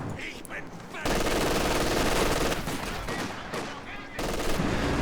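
Dense, sustained gunfire from a multiplayer video game fills the whole stretch as a loud, continuous wash, with one short dip before another heavy burst.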